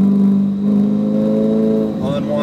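Ferrari 488 GTB engine under hard braking, a steady loud mid-pitched drone that drops as it downshifts with a brief blip near the end, heard from inside the car.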